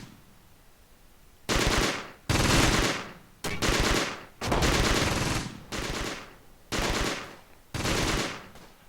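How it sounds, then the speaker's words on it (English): Sustained bursts of gunfire in a Close Combat World War II tactical battle near Caen, eight loud, dense machine-gun volleys separated by short gaps, with no talking over them. "Unfortunately, our rifle section's already under heavy fire."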